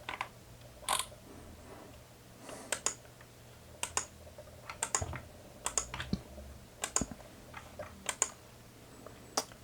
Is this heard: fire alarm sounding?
no